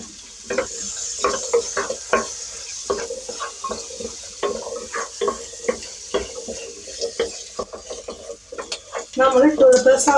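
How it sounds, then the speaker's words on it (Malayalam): Onion, ginger and green chili sauté in oil in a pot for a prawn kudukachi biryani, with steady sizzling broken by repeated scraping stirs of a spoon against the metal, close and fairly loud, with no talking. "നമ്മൾ ഇട്ട് കൊടുത്ത സവാള, ഇഞ്ചിയും പച്ചമുളകൊക്കെ കുറച്ച് നന്നായിട്ട് ഒന്ന് വയന്ന് തുടങ്ങിയിട്ടുണ്ട്."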